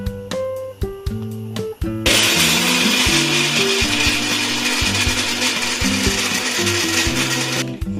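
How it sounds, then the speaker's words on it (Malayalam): A mixer grinder grinds grated coconut into coconut milk, switching on after a short lull and whirring loudly and steadily for several seconds before cutting off. "പാനി ആവുമ്പോഴേക്കും നമുക്ക് ഈ തേങ്ങ മിക്സിയിലൊന്ന് അടിച്ച് പാലാക്കി എടുക്കാം."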